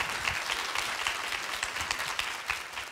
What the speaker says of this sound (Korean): 다시 한번 뜨거운 박수 부탁드릴게요